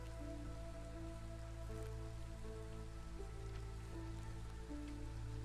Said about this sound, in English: so we're in drizzle now.